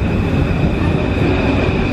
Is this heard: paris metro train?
yes